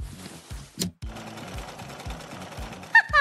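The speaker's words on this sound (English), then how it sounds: "Time to sew!" A sewing machine stitching fabric, a steady rapid mechanical chatter with regular thumps and a brief pause, ending on a few sharp clicks; no one talks over it.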